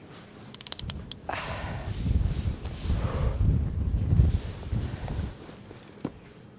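Rapid ratchet clicks come from a fishing reel's drag being tightened, starting in a quick burst and then fading under steady wind buffeting the microphone on a cod fishing trip.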